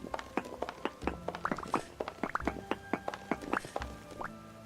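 Water drips in a video game cave, a quick scatter of small, close plops in an uneven rhythm that keeps going throughout.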